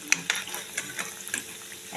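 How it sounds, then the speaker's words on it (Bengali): Brinjal slices fry in oil with a soft, low sizzle, punctuated by a few light clicks and taps of a spatula close by. "দেখুন বেগুনগুলো কি সুন্দর লাল লাল ভাজা হয়ে গেছে।"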